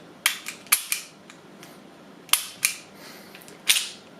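A handful of sharp mechanical clicks from a gritty Springfield XD pistol trigger pull, spaced irregularly, close up with a gritty snap to each and quiet between.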